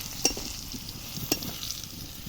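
Potato pieces frying in oil for a duck curry, a steady soft sizzle with two brief sharper clinks of stirring, close and fairly quiet, with no talk.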